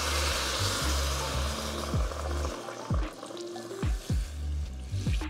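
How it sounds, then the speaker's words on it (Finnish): Hot water is poured over fish scraps frying in a pan for a Thai soup; a watery gush and bubbling sizzle with several sharp splashing plops, close and without talk. "Ja sitten vaan kuumaa vettä päälle."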